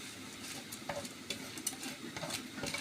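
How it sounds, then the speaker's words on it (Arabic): Rice with coriander, dill and parsley being stirred into a tripe stuffing mixture, a faint wet scraping and soft mixing rustle at close range, no speech. "نزلت بكيلو الرز، هقلبه كويس في الخلطه"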